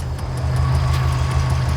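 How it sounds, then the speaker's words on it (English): An IAG750 motorcycle engine fitted in a car runs steadily on a dyno during run-in, a loud, constant low drone with a faint, even ticking on top and no speech. "Oh, the engine's on."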